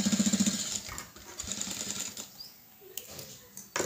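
A sewing machine stitches fabric in a quick rhythmic burst at the start, then runs in softer, uneven stretches with pauses and faint handling noises.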